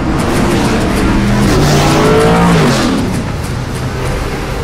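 A car races at high speed in an action-film chase, its loud engine roaring and rising in pitch as it surges past, then easing off into steady road noise.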